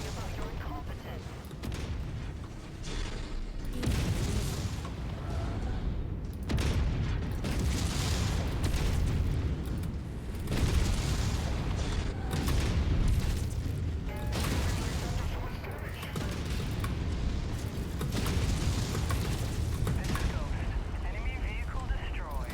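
Heavy explosions and booming weapon fire from mechs being destroyed in the MechWarrior 5 video game, a dense, loud, continuous barrage of blasts and rumbling that runs the whole stretch.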